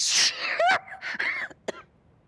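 A single sharp sneeze bursts out close and loud at the start, trailing into a strained vocal exhale and a few short breathy sounds, with a brief click afterward in an otherwise quiet indoor room.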